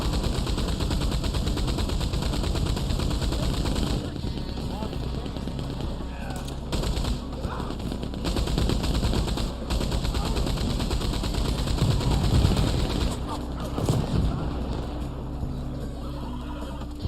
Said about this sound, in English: Thank God they actually let you use a machine gun in this.